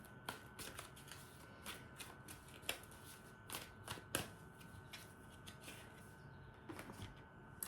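A tarot deck shuffled by hand in quick riffles and soft flicks, with sharp card snaps scattered irregularly throughout, close and fairly quiet with no talking.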